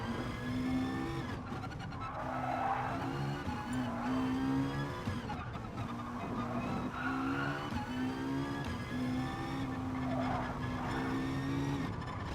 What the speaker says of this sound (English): Far too fast around that corner, understeered right into the wall.